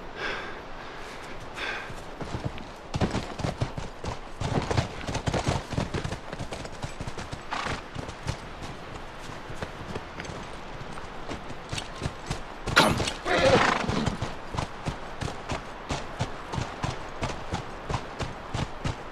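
Horses in The Last of Us game clop along at a steady walking pace, with hoofbeats throughout and snorts and breathy exhalations rising near the middle.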